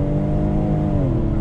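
A 2020 Ford Explorer ST's engine holds a steady, loud drone under throttle, its tone dipping slightly near the end, heard from inside the cabin without any talk.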